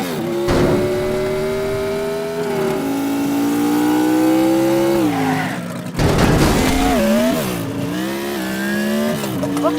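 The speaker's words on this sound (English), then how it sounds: "So yeah, this is a quite fast car." A fast old 1980s Porsche driving in the Teardown video game, its engine note rising and falling steadily with a sharp shift or rev change midway and continuous loud revving throughout.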